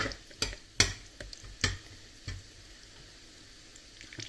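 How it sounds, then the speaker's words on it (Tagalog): Meat for Filipino adobo is stirred by hand in its marinade, giving a few sharp, wet clicks and squelches at irregular intervals, close and quiet with no talking. "Marinate natin yan, guys. Halo-haloin natin."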